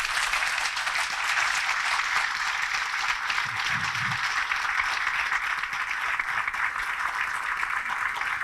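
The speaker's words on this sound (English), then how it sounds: "they deserve a huge round of applause" Conference audience at a session on new labour codes applauding the organisers, a steady, fairly faint wash of clapping that holds evenly throughout, with a brief low murmur in the middle.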